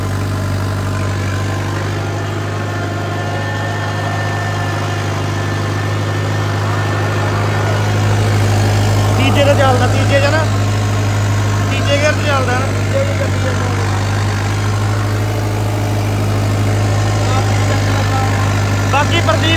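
A 5630 tractor engine works under load pulling a super seeder in 4-low gear, a steady, deep, loud drone that holds its pitch throughout while someone talks over it.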